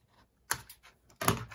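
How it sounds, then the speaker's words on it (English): Scissors cut through scrap paper for a journal shaker embellishment in two close, crisp snipping bursts, a short one followed by a longer crunching cut, with no speech. "And then you're gonna cut this piece right off."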